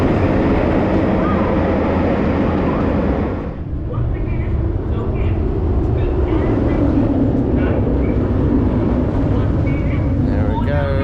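Nemesis roller coaster train at Thorpe Park runs a test cycle with no riders, a loud rushing rumble that dips briefly, then builds again as the train passes, steady and fairly close.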